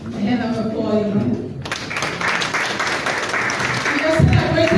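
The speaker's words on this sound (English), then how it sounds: "And I'm applauding." An audience at a hotel Women's Day event breaks into applause after a moment of speech, and the clapping swells and continues while a voice keeps talking over it.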